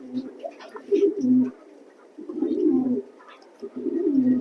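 An agitated male racing pigeon in a loft coos in three rolling, throaty bouts, close and moderately loud, with short gaps between them.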